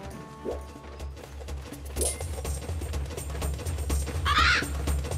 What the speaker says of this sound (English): Crows attack by pooping on me?